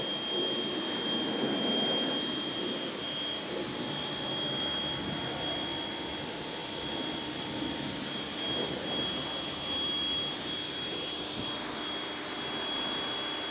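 A pressure-washer spray rinses a ceramic-coated car's wheel wells and suspension parts in winter conditions, a constant loud close hiss that goes on without a break and has a faint whine running through it.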